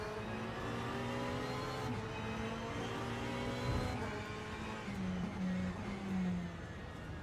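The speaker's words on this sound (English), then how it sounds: "let's ride on board with the Ferrari. One of the most glorious noises in GT racing." A Ferrari 488 GT race car engine in a sim racing game, heard from on board as a steady high-pitched engine note climbing through the gears, with some shifts and fluctuations in pitch.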